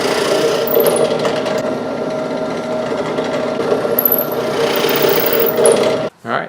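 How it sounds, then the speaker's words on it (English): Spindle sander rounding over the corners of wooden tabletop buttons, a steady whirring drone with rising and falling grinding as each piece is pressed in, running nearly six seconds before stopping abruptly. "I'm just going to round over the corners on the spindle sander."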